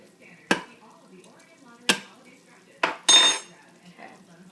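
Lids come off pots of red borscht with beets and potatoes cooking on the stove: four sharp metallic clanks, spaced a second or so apart, with quiet kitchen noise between them.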